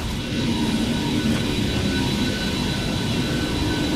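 An aircraft coming in to land in the video game Vanquish produces a steady, loud roar of jet engines, dense and unbroken throughout.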